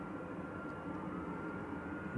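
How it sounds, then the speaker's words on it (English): An aircraft with Rolls-Royce RB211 jet engines at Manchester Airport, a steady whistling engine roar at moderate distance, continuous and unbroken, with no voices. "Those whistling engines."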